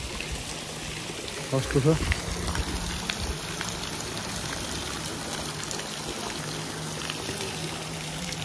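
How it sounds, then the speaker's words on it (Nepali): Cold mountain spring water trickling and flowing steadily at a waterfall, a continuous close watery rush, with a person speaking briefly over it near the start. "माथि पाहाडबाट आएको पानी"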